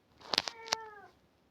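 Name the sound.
cat meowing indoors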